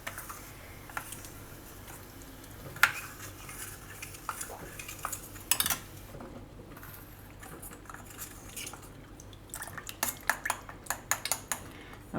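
A spoon stirring soaked custard powder in a bowl, giving light, irregular clinks and taps against the bowl that come in quick clusters toward the end. Close and fairly quiet, with no talk.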